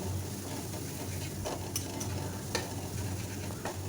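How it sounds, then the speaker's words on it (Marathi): A paste of garlic, coriander, cumin and ginger sizzles steadily in hot oil while a spoon stirs it, and scrapes and taps against the pan break through the soft continuous frying. "आता आपण लसण कोथिंबीर जिरं आणि आल्याची पेस्ट इथे टाकून घेणार आहे आता याचा कच्चेपणा जाईपर्यंत आपल्याला हे छान परतून घ्यायचे आहे"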